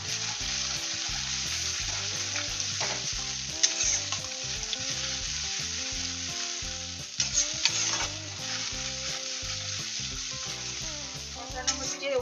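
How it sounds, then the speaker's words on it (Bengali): A nut-based paste for a vegetarian paneer and potato dalna sautéed in oil, a continuous loud sizzle with repeated rhythmic scraping of a spoon against the pan throughout. "ভালো করে কষতে থাকবো, নিচে যাতে না লেগে যায়"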